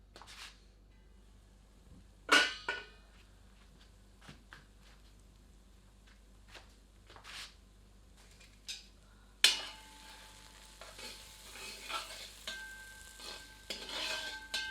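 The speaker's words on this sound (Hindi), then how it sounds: "इसे ढककर 10 से 15 मिनट धीमी आंच पर पकाते हैं और बीच बीच में 2 से 3 बार करछी" A ladle scrapes and stirs cabbage and potato sabzi in a pan at close range, with a few clinks early on and then a steady soft sizzle under the stirring.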